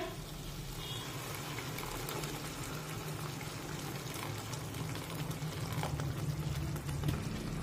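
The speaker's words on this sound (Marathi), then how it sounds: "आता यामध्ये गरजेनुसार गरम पाणी टाकूया।" Hot water poured into a simmering pea curry masala in a home kitchen, giving a steady bubbling, watery rush that runs continuously at moderate level with no talking.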